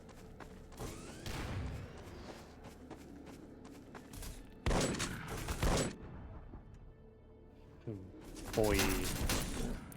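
Shotgun blasts and other weapon fire in E.Y.E.: Divine Cybermancy, several loud discrete bangs with ringing tails spread across the scene, mixed with game effects and a short spoken word.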